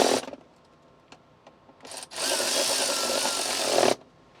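A power driver tightens screws holding a plastic backseat center console in a Tesla Model Y. A few light clicks are followed by a steady two-second whirring burst, up close.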